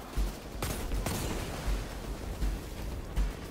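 The Prospector grenade launcher in Destiny 2 fires in a row of heavy, low thumps, about five or six evenly spaced explosions over a constant background rumble, with no talking.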